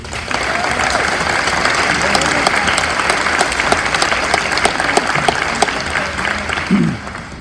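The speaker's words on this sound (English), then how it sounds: "Round of applause, please." Steady applause from a crowd at a high school athletic awards and hall of fame ceremony, sustained and fairly loud for about seven seconds before tapering off, with a brief voice near the end.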